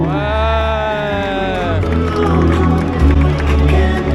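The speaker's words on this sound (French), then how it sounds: "Un tonnerre d'applaudissements pour Chloé Conan" A crowd applauds and cheers for the third-place women's finisher at the 10 km des étoiles race in Paris, partly masked by loud music playing over a PA.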